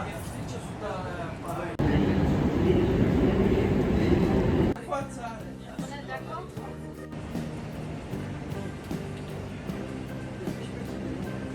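Interior of a passenger train travelling through Belgium, with a loud rushing rumble for a few seconds, then quieter steady running noise and faint rhythmic rattling, under continuous nearby talk.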